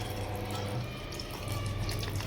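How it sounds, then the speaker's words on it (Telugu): Water poured into a cooking pot while making bottle gourd pulusu, a steady close-up splashing stream of liquid running continuously and fairly loud with no talking. "వాటర్ వేస్తున్నా"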